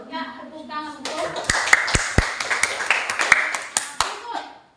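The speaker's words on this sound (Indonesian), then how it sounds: "Ya, tepuk tangan betul." Schoolchildren in a classroom clap their hands together in a short burst, a cluster of sharp claps near and loud over children's voices and a teacher talking before and during the clapping.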